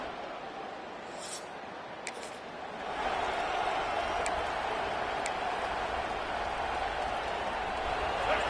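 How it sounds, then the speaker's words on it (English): Stadium crowd roar in EA Sports College Football, Michigan State Spartans at Michigan Wolverines, a steady broad wash of cheering that swells louder partway through, with a few brief sharp accents on top. "This crowd ready to make its presence known."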